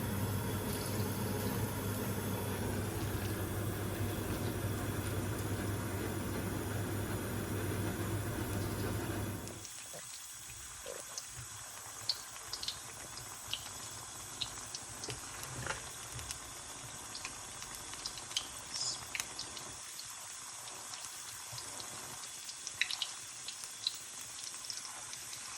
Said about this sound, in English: I'm putting the pakoras in now because the oil is hot.